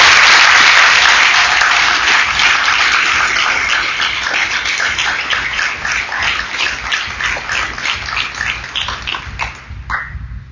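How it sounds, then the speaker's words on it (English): Loud audience applause at a 2008 graduation ceremony in Rome, New York, a thick wash of clapping from a large crowd that slowly fades, with scattered individual claps before it ends abruptly. "So please, if you would applaud them for spending their summer with us."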